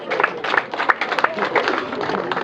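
Wedding guests applaud in bursts of scattered hand claps throughout, with an announcer's voice talking over the clapping.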